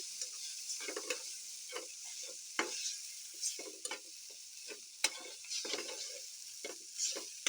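Boiled Maggi noodles are stirred in a hot pan. Irregular scraping and stirring strokes sound close and clear over a steady, faint background sizzle. No one speaks.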